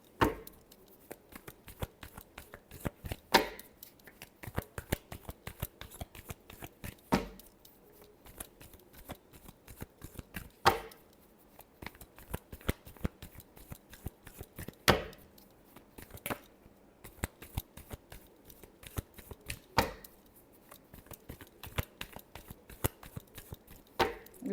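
Tarot cards being shuffled by hand, producing a long run of rapid, crisp riffling clicks and slaps in repeated bursts with brief pauses, close and alone, no talking.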